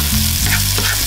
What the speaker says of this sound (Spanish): Cuando la cebolla esté ya bien doradita, entonces le vamos a agregar la carne, el repollo y los demás condimentos.